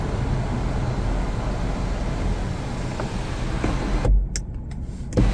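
The power sunroof of a 2025 Chevrolet Trax Activ closes with a steady electric motor whir under cabin hum, ending in a couple of soft thuds as it seats shut.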